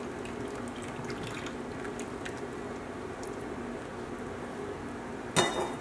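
Water from cooked orzo drains in a steady rushing trickle from a strainer, with a brief clatter near the end.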